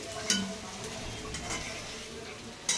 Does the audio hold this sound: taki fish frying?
yes